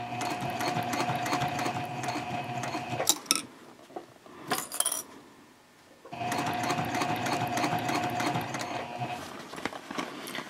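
A sewing machine stitches a messenger bag gusset in two loud, steady runs separated by a pause with a few soft handling clicks.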